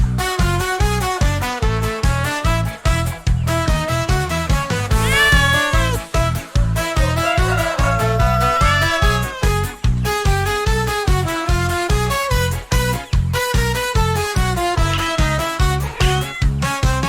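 A cat's meows run through a children's song about disobedient chicks, rising and sliding over a steady, loud, bouncy musical beat that plays throughout.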